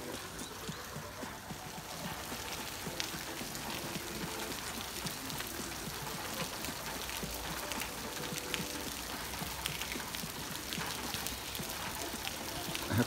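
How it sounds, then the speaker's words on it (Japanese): Heavy rain falls steadily on surfaces outdoors, a dense constant hiss with patter and trickling, moderately faint and continuous throughout. "大雨やな。"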